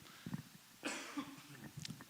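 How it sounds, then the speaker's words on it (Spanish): A single harsh allergy cough close to the microphone, preceded and followed by soft throat and breathing noises in a quiet room. "Perdón por la tos, tengo una alergia"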